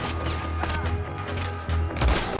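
Gunfire from headshots in Red Dead Redemption 2: a few dull booming shots over a steady low game rumble and music bed, with a heavier thud near the end.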